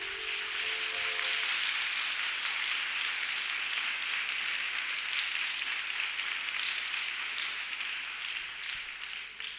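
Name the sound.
audience applause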